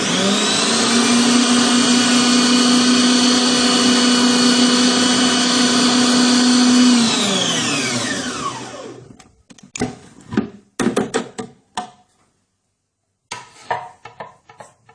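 An electric mixer beats mug-cake batter of oil and milk, whirring steadily for about seven seconds, then winds down and stops, followed by a few clattering knocks and scrapes.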